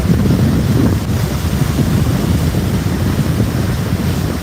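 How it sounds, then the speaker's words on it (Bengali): Sea waves and strong wind roar continuously around a ship on a crossing to Sandwip, a loud unbroken wash with heavy wind buffeting and no voices. "স্পিড ওই ঢেউয়ের মধ্যে আসে আসতেছে কীভাবে এত ঢেউ"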